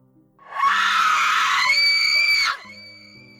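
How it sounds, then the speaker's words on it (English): A woman's piercing, sustained scream rises sharply, holds loud for about two seconds with a shifting pitch, then cuts off into a quieter tonal tail. "That scream. That unforgettable scream."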